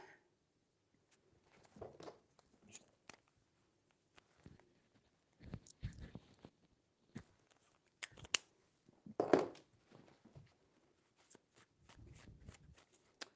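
Tarot cards are shuffled by hand in short bursts of riffling and snapping, close and fairly quiet, separated by near-silent pauses.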